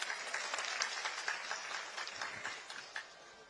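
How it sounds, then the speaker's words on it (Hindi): Applause welcoming the Chief Minister of Chhattisgarh at an outdoor public grievance camp, a fairly faint, distant wash of clapping from a crowd that gradually thins out toward the end. "मैं चाहूं हमारे मुखिया जी पर एक बार जोरदार ताली से स्वागत हो जाए।"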